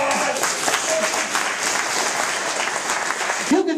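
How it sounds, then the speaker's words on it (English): Loud audience applause from a live crowd, dense steady clapping filling the whole stretch with a few shouts mixed in, ending abruptly. "Give her a big round of applause."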